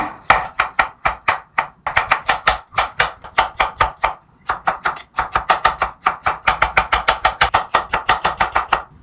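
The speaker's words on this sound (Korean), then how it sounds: "밤 단호박 3개입니다. 저거를 얇게 잘라볼게요." A knife cuts through hard kabocha squash with quick, repeated chops, bursts of sharp strikes on a board with short pauses between runs, close and loud.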